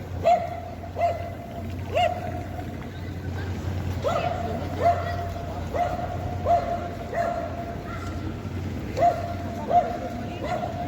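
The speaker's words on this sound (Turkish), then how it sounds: "Köpekçikler tartışıyor." Small dogs bark and yip repeatedly in short bursts over a steady background hum, with murmured voices in the distance.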